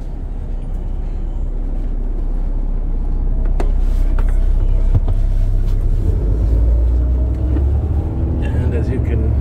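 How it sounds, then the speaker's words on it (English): A city express bus engine, heard from the rear seats, gives a steady low drone with a rattling rumble and occasional clicks and knocks throughout the ride. "as you can hear from the back, you can hear the actual engine noises, which is more interesting, I think."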